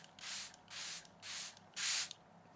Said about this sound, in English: Use the Charlotte Tilbury Airbrush Flawless Setting Spray and apply it over your foundation.